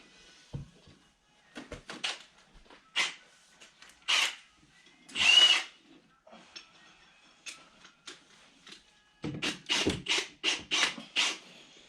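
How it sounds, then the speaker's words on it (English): A power drill revs in repeated short bursts, biting into wooden wall studs, with pauses between each hole and a quick cluster of bursts at the end. "I'm going to take a drill bit and drill through my studs."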